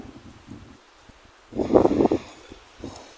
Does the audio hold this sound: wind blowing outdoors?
yes